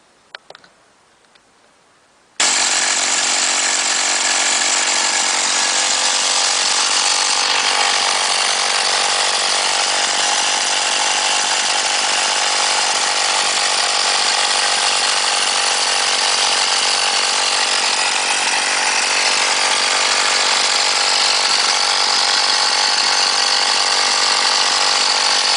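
An old VAP4 moped engine fitted with CDI electronic ignition starts after a brief clatter and runs steadily, a loud, buzzing two-stroke drone held close for over twenty seconds with no talking.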